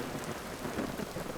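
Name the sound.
thunder during rainstorm in video game Vintage Story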